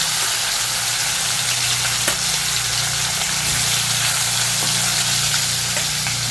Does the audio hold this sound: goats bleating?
no